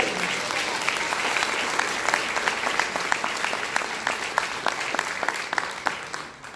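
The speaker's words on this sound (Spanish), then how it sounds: "Denle el aplauso fuerte a Él." A church congregation at a Spanish-language sermon breaks into loud, sustained applause, dense clapping that holds steady throughout and tapers slightly at the very end.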